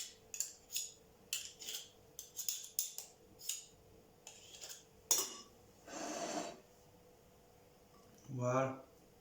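Two spoons scraping and clinking against each other while shaping a quenelle of chocolate passion-fruit crémeux, a run of light, quick metallic taps followed by softer scrapes and a breathy noise.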